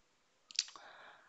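A single computer mouse click, very short, crisp and quiet, close by in an otherwise silent room, followed by a brief soft rustle.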